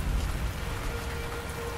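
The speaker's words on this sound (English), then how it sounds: "This rain will not make it any easier." Steady rain falls outdoors at a Big Brother Australia challenge where people grip handles, a constant dense wash of drops with no voices.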